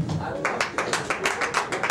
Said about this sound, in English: Now by another round of applause, who here has been or knows somebody who's been cyberbullied?